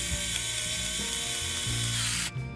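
A small screwdriver drives screws into the servo mount of a TRX-4M radio-control truck, making a steady close ratcheting, grinding whir that runs throughout and cuts off near the end, with no voices.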